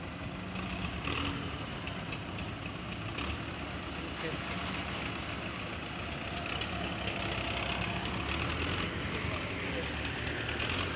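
Belarus 510 tractor engine idling steadily with a big silencer, a dense continuous low rumble holding even and fairly loud throughout with no one speaking.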